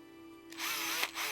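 A power drill bores into a tubular lock: a faint motor hum, then a loud, harsh grinding whir for under a second with a short dip and surge near the end.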